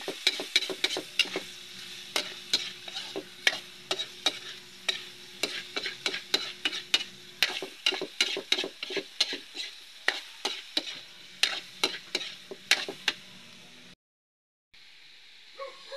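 Bitter gourd (ampalaya) with egg being stirred in a frying pan at home, a spatula scraping and clacking in a quick, steady rhythm over a soft sizzle, close and fairly loud, stopping briefly near the end.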